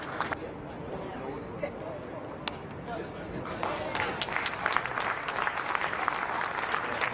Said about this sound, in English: Loud applause from the Redbacks fans.